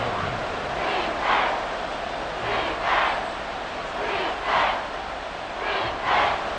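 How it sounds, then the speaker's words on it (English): A stadium crowd roars at an NFL game between the New York Giants and Washington Commanders, a constant dense din with several swelling surges of cheering. "the crowd getting into it as we come up on a big third down"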